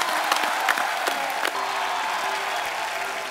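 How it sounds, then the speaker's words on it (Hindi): A television studio audience on a comedy show breaks into dense, sustained applause, loud clapping with a few whoops rising over it. "एक बार पूरी सारात टीम के लिए जोरदार तालियां हो जाएं।"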